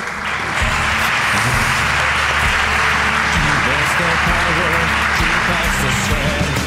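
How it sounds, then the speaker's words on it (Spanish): A live audience at a comedy-history podcast show in Málaga applauds, giving dense, continuous clapping that holds steady from start to finish, with voices mixed underneath. "aplauso para David, por favor."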